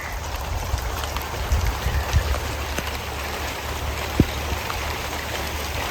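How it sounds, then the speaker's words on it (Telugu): Steady rain falls and patters on surfaces during a long-awaited rainy spell at a garden, a continuous even hiss with scattered louder drops and one sharp tap near the end. "వర్షం అక్కడ పడుతుందండి, అక్కడ నుంచి జరుక్కుంటూ వస్తుంది ఇటువైపుకి"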